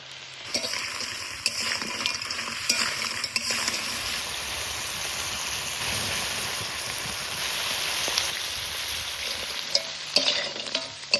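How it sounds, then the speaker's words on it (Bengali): Crabs from a wetland fry in mustard oil with onion, giving a steady loud sizzle with scraping stirring clatter throughout, no voices. "সরিষার তেল এবার কাঁকড়াগুলা খুব ভালো করে ভাজি নিব"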